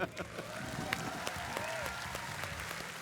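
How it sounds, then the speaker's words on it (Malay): An audience at a live comedy show applauds in a short, steady round of clapping, with a voice talking and some tonal sound over the claps. "Bagi tepukan untuk Rahim."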